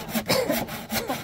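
Wood being sawn by hand, with three or four rough, raspy back-and-forth strokes in a quick rhythm, close and clear, with no talk over it.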